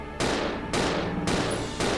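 Pistol shots in the survival horror game Resident Evil 0 fire four times at a steady rhythm, each one loud and sharp with a ringing tail.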